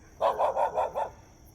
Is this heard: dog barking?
yes